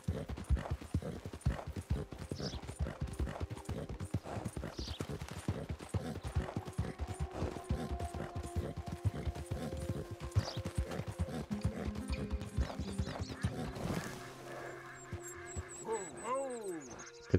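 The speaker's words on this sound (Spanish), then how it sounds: "El caballo descansa, recupera energía." Horse hooves clip-clop steadily in the video game Red Dead Redemption, a quick, even rhythm of close, distinct beats for most of the stretch that thins and slows near the end, with game sounds and some speech around it.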